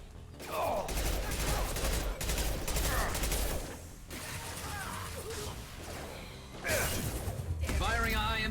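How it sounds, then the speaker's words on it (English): Gunfire in the sci-fi shooter Mass Effect 2: rapid bursts of shots and impacts crack in clustered volleys with whooshes and crashes, interrupted by a brief lull before another loud burst. "Firing a high-impact shot."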